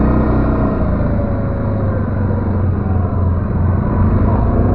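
A Linhai 550 quad bike engine drives along in a loud, continuous rumbling drone, close and steady throughout.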